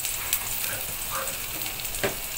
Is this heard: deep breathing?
no